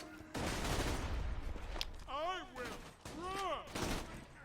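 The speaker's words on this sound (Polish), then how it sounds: "Ktoś do mnie strzela." Sustained rapid gunfire in the video game Borderlands 2, a dense burst of shots lasting several seconds, with a voice talking over the second half.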